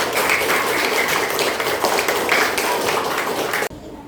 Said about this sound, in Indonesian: Ya, tepuk tangan buat semuanya.